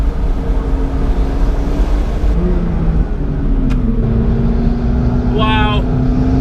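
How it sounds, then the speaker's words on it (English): Ferrari 488 Spider and McLaren 650S driving fast on an alpine road with switchbacks, heard as a steady loud engine and road roar with a shifting engine tone, plus a brief whine near the end. "Imagine taking an alpine road and being able to drive it at"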